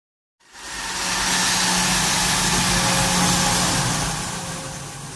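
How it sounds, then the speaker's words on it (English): A private jet's engine starts from silence and rises into a steady, loud broadband roar with a faint tonal whine, holding evenly before easing slightly at the end. "Private jet."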